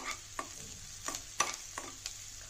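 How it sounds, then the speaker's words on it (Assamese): Onion, green and dried chillies and panch phoron fry in oil for a pumpkin dish, with about six distinct spatula scrapes and stirs over a quiet background sizzle. "খালি পিঁয়াজ কেঁচা জলকীয়া আৰু শুকান জলকীয়া দি পাঁচফোৰণ দি বহাই দিলোঁ"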